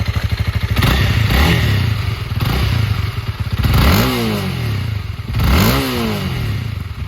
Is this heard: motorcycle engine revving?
yes